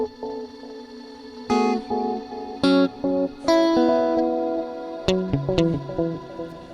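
Electric guitar played through a Line 6 DL4 with delay and reverb running in parallel at a midway tweeze setting: picked notes and short chords ring out alone, each trailed by echoing repeats and a washy reverb tail.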